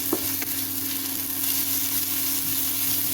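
Ginger garlic paste frying with browned onions in a pan while being stirred, giving a steady close sizzle and hiss with a couple of sharp scraping clicks near the start.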